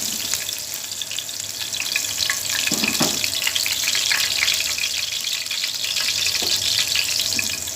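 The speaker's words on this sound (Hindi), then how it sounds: "हम डाल देंगे एक कटी हुई हरी मिर्च। इसकी खुशबू बहुत अच्छी लगती है तेल में फ्राई हुई।" Chopped green chilli frying in hot oil for a whole moong dal, giving a steady, dense sizzle that holds evenly throughout at moderate loudness, with a few faint clinks, and no talking.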